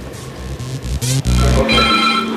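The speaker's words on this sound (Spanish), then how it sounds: "Suena el teléfono" A telephone rings loud and close in repeated short tonal bursts, interrupted by brief gaps, within a segment about telephone extortion scams.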